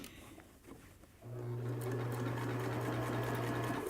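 A sewing machine runs steadily for a few seconds, stitching fabric for a cap in one continuous, close and fairly loud burst after a quieter start.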